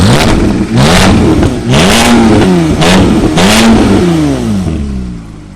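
A loud Porsche engine revs repeatedly, each throttle blip rising and falling with a raspy, aggressive note from a modified exhaust up close.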